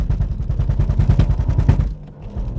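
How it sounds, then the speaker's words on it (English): A 2022 Ford Fiesta ST suffering axle tramp while launching hard, a rapid, violent series of low thudding judders like machine-gun bursts, close and loud, before easing off into quieter engine noise. "Oh, lots of axle tramp"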